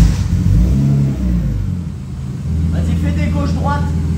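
BMW E30 drift car engine cranking and catching, then revving in a few rising and falling bursts before settling into a loud, close idle with harmonic drone, people talking over it.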